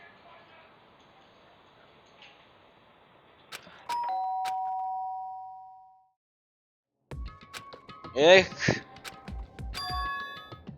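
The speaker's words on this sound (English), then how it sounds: "They hear the doorbell?" A doorbell chime in the video game Danganronpa rings as one sustained electronic tone for about two seconds over faint background music, then fades out. Animated voices and game sounds follow after a short silence.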